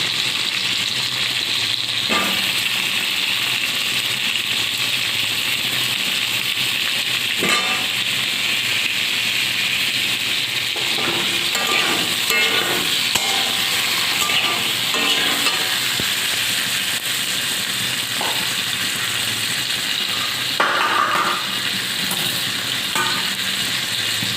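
Potatoes sizzling in hot oil as they go into a pan for a vegetarian curry, a loud continuous close hiss broken by occasional scrapes and clinks of stirring.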